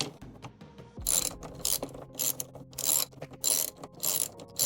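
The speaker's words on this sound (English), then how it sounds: "Next, you'll need a 10mm socket." A 10mm socket ratchet clicks steadily while loosening A-pillar trim bolts inside a 2021 Ford Transit van, with bursts of rapid pawl ratcheting up close and no talking.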